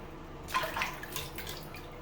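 Warm water splashes and drips over a plastic G.I. Joe Skystriker toy jet as old adhesive is rinsed off, a soft irregular trickle with a few brighter splashes near the middle.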